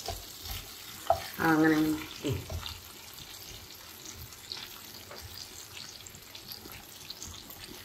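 Pomfret fish coated in rava frying in a pan, a soft, steady oil sizzle with occasional clinks and stirring noises, while someone briefly speaks over it.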